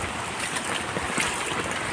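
Heavy rain and a flooded stream after a downpour give a steady, dense wash of rushing water and hiss, continuous and fairly loud, with no voices.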